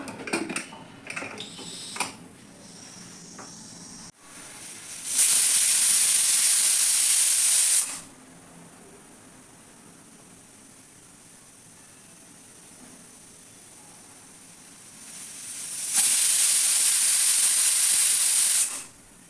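A pressure cooker cooking ridge gourd sambar releases steam in two long, loud hissing bursts, separated by a quieter stretch of low background hum.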